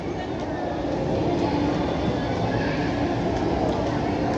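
An electric KRL commuter train arrives at Jakarta Kota station with a steady, moderately loud rumble and hum that holds throughout.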